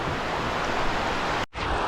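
Steady roar of surf washing against the shore at high tide at Burondi, Dapoli, broad and continuous, with a brief dropout near the end before the wash resumes.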